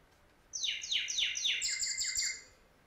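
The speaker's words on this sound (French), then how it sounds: "Alors là, on vient entendre les vocalisations de cet oiseau, le cardinal rouge." Northern cardinal singing, a run of about eight clear, downward-sweeping whistled notes in steady rhythm, close and alone against a quiet background.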